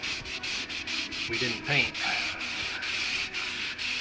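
A Johnny BLOX sanding block is rubbed back and forth over paint runs in a clear coat, a fast, regular scratchy rasp of short close strokes, while a voice briefly talks over it.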